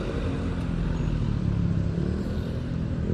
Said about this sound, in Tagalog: Big bike, oh.